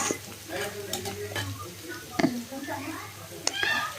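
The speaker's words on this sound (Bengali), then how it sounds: "আমি চিংড়ি মাছটা দিয়ে দিচ্ছি চিংড়ি মাছটা আমি একটু তেলের ভিতরে ভেজে নিব" Prawns frying in oil with onion give a soft, steady sizzle, with a few sharp clicks of a utensil against the pan while someone talks over it.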